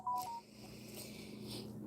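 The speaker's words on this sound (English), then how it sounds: "I don't know why my phone's beeping and beeping." Electronic tone beeps chirp quickly near the start, a short burst of phone keypad-like blips over a steady low hum, then fading into background noise.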